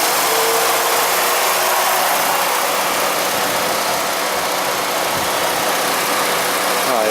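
A 2006 Jeep Liberty Limited's V6 engine idles just after a cold start, a loud, steady, rough mechanical roar captured up close without interruption.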